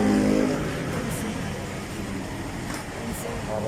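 A car engine turns over and keeps running, a low steady rumble with a brief louder surge at the start and then a settled idle, while people speak nearby.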